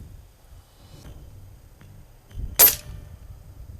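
A single sharp air rifle shot at a range, a sudden loud crack and brief hiss standing alone above a low background rumble, with no talk.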